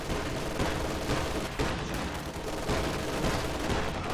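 Sustained enemy machine gun fire in a strategy video game battle, a dense, steady rattle of overlapping bursts that stays loud throughout with no pause.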